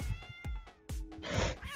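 Several short cat meows in the fantasy game Tree of Savior, close and fairly loud, coming in quick succession with brief gaps and a final rising mew, mixed with game effects and no speech.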